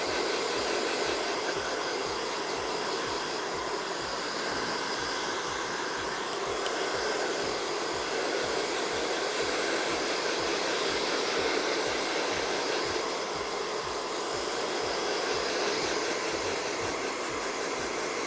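A handheld hair dryer blows on hair in a TV studio, making a loud, continuous, even whoosh with a low motor hum that runs without a break and with no voices over it.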